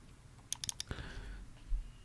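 A computer keyboard being typed on, a quick run of four or five crisp close key clicks followed by a heavier tap, quiet against a faint background hum.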